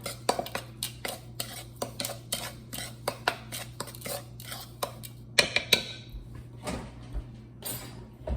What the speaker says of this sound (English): All right, so we're just gonna stir that up.